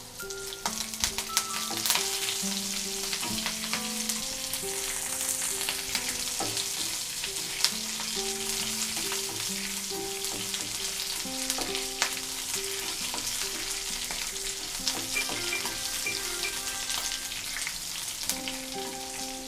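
Curry leaves and dried red chillies fry in hot ghee for pongali, a steady dense crackling sizzle that runs throughout, close and even, with faint background music.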